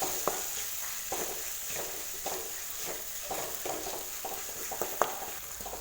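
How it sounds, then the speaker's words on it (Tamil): Mint and coriander leaves sauté in a pan for an egg masala, with a steady sizzle of hot oil broken by a spatula's repeated scraping strokes at close range and no voice. "கொத்தமல்லி தழை புதினா தழையை சேர்த்து நல்லா வதக்கி விட்டாச்சு."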